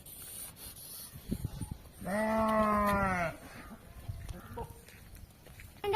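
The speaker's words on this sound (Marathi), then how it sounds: "आता मेंढ्या डोंगरांना सरळ चालले आहे" A single loud sheep bleat, wavering for about a second, stands out against quiet outdoor rustling and soft background noise as a flock walks toward the hills.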